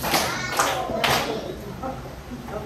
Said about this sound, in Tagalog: Bigyan si Janice ng 3 palakpak.